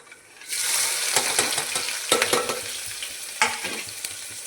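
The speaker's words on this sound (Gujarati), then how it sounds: "ચાલો હવે આને આપણે સરસ રીતે પહેલાં પકાવી લેશું, ગોલ્ડન કરી લેશું ડુંગળીને." Onions frying in a hot pan: a steady bright sizzle starts after a brief quiet moment, with several sharper scrapes and clatters as they are stirred, close and loud with no voices.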